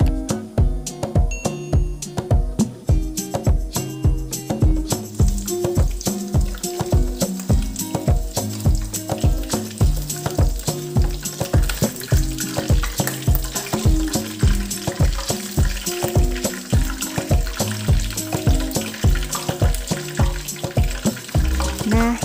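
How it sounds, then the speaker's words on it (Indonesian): Breaded potato balls stuffed with mozzarella deep-fry in hot oil with a steady, dense sizzle that runs throughout, partly masked by rhythmic background music. "Goreng ini sampai semua sisinya berubah warna jadi coklat keemasan."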